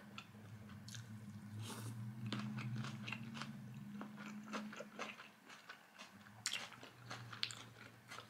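Someone chews a mouthful of truffle butter rice with eggs up close, soft wet bites and faint crunches recurring irregularly over a low steady hum.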